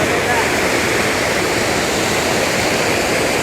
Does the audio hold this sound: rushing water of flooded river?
yes